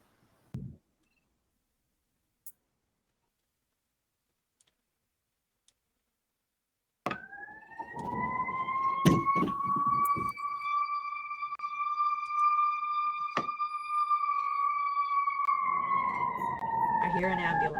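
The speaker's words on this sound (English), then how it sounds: "I hear an ambulance." After near silence and a few clicks, a loud ambulance siren sounds close by with a steady wailing tone, while voices talk underneath.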